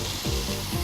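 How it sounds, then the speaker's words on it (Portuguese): Onion browning in olive oil in a heated pan gives a steady, close sizzle and crackle with a couple of brief stirring swells, with no talking over it. "E vamos então dourar a cebola."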